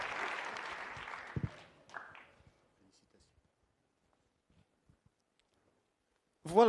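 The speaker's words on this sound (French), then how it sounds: "On les applaudit très fort." Loud audience applause at an innovation event in the Vosges fades out over a couple of seconds, leaving near silence with a few faint clicks before a voice starts speaking at the end.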